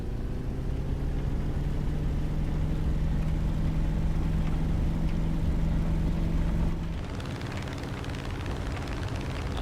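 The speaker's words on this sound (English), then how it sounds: "I love that sound of the propeller engines, pistons when those are firing out." A piston propeller aircraft engine from War Thunder drones steadily during takeoff power-up, a loud continuous hum with layered tones that shifts character and drops slightly near the end.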